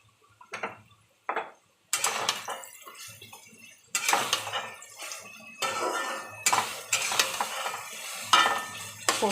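Poppy seed paste going into a hot pan and frying, bursts of sizzling and spatula scraping against the pan in uneven strokes, close and moderately loud, alone without talk.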